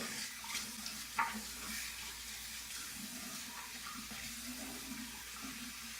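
Running water streams steadily as an OmniShaver head razor is rinsed under a tap, a soft continuous splashing hiss, faint and close, with no talk.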